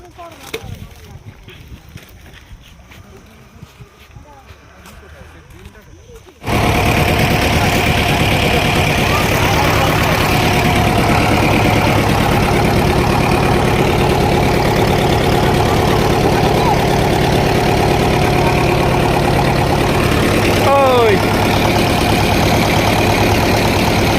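A trawler boat engine on the water near Mousuni Island starts after a few seconds of quieter ambience, then holds a loud, steady, chugging drone, with voices heard now and then.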